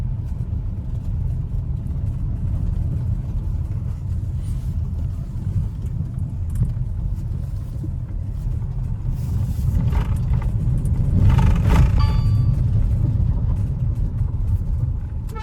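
A car rolls along a rural road near Alibag, its engine a steady low rumble that swells slightly midway, close and continuous with no voices.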